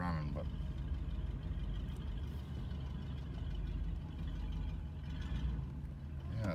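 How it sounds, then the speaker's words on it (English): A 1983 Buick Electra engine idles steadily after a cold start on a snowy winter day, a continuous low rumble close by that holds even throughout, with someone talking over it. "If you just feather the accelerator a little bit, it'll keep it running"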